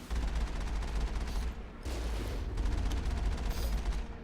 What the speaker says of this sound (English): Say hello with our big ass cannons.